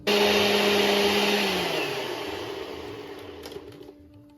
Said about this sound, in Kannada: ಇದನ್ನು ಚೆನ್ನಾಗಿ ರುಬ್ಬಿಕೊಳ್ಳುವುದು